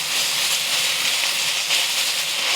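Onions stir-fry in a hot pan for Thai basil beef, giving a steady, loud, even sizzle and hiss that carries on without a break and without talk.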